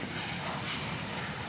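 An airliner's engines roar on the runway at Melbourne Airport, a steady, moderately distant drone with no talking.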